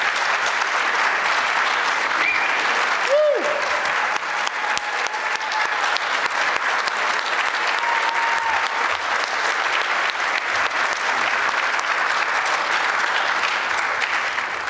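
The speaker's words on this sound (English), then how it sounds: "Let's give them a round of applause." Long, steady applause from a conservative political gathering honoring veterans, a dense wash of clapping that continues evenly from start to finish with faint voices briefly rising above it.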